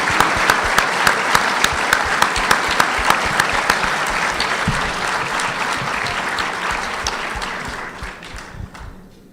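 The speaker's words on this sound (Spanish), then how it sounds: "Les pido que la aplaudan." Sustained audience applause from a seated crowd at a book presentation in Mar del Plata, dense rapid clapping holding steady and loud for several seconds before tapering off toward the end.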